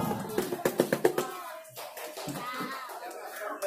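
An audience at a santri graduation event at an Islamic boarding school claps in a quick burst of close, sharp hand claps, then falls away to murmuring voices and talk.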